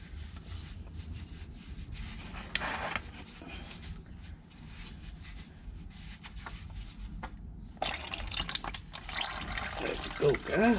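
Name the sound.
motor oil draining from a Chrysler into a bucket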